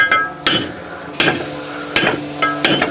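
Metal knocks ring out as a homemade tube tool is struck to drive a part into a stern drive on a Princess 286 Riviera boat under renovation. There are five crisp, close, moderate taps spaced roughly half a second to a second apart.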